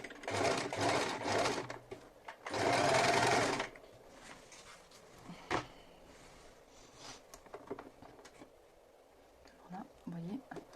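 Domestic sewing machine zigzag-stitching fabric to finish a seam edge, two loud close bursts of steady whirring chatter, followed by quieter handling clicks and rustles of cloth; no talking.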